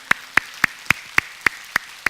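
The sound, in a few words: congregation applause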